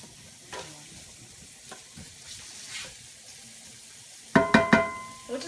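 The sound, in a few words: chili and spices sizzling while cooking down in pan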